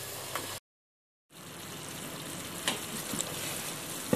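Chicken pieces sizzle in a pan of fried masala as their water cooks off, a steady loud frying hiss broken by a brief silence, with small pops and stirring sounds.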